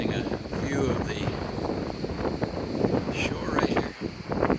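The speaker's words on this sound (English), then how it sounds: "Windy though." Wind gusting across the shore behind a chapel, with long waves rolling in, a steady broadband rush that swells and dips throughout, with people talking faintly over it.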